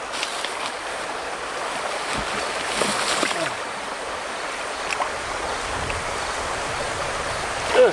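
A clean, cold river flows in front of someone washing shrimp, giving a steady, close rushing wash with light splashes and a small knock at the end.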